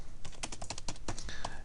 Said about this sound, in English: in it you can go ahead and just start typing